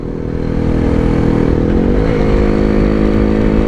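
A two-stroke Yezdi or Jawa motorcycle rides along a twisty road, its engine a loud, steady buzzing drone heard up close, pitch shifting slightly as the rider changes speed, with no talk.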